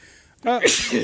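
A single sharp sneeze after a quick breath in, close and fairly loud, with a brief vocal burst.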